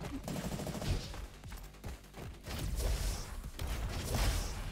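A Tommy gun fires in the video game RoboQuest in rapid, rattling bursts that repeat over several seconds with short gaps, set against busy game noise.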